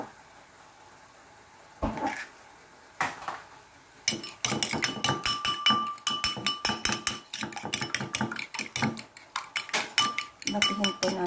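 An egg is beaten in a bowl, a quick run of sharp clinks of a utensil against the bowl following a few isolated knocks, close and fairly loud.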